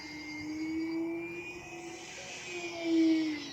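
A Multiplex PA20 Pacer RC airplane on a 4S 2200 mAh battery flies at sunrise, its electric motor giving a steady whine that swells as it passes closer near the end.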